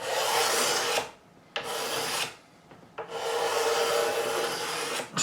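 Sandpaper rubbing back and forth over excess epoxy on a wooden Warwick Corvette Double Buck bass neck, three long close rasping strokes separated by brief pauses, loud and steady with no voices.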